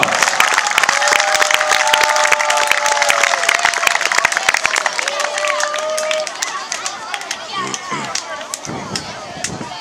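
Lively crowd applause and cheering at an under-10 international youth football tournament awards ceremony, dense rapid clapping with whistle-like shouts and cheers over it, loud and close, thinning toward the end.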